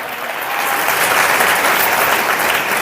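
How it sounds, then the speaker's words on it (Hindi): A church congregation claps hands during a Hindi sermon, a dense steady wave of applause from many people that swells and holds loud for a few seconds. "ताली बजा के।"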